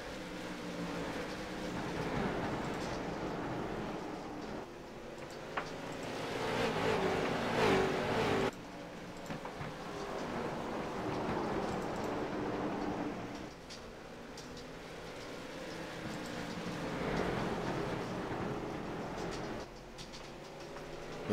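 Continuous roar of late model race cars circling South Boston Speedway, engines droning and swelling as they pass, loud and steady throughout with no talking.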